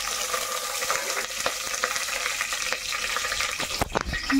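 Shahi jeera and other whole spices drop into hot oil for tempering, giving a close, steady crackling sizzle with a few stirring clatters near the end.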